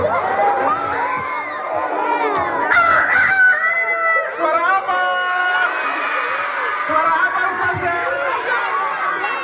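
Someone imitates a rooster's crow with long wavering vocal calls during a storytelling session at a school Maulid celebration, while a crowd of children chatters and laughs around them.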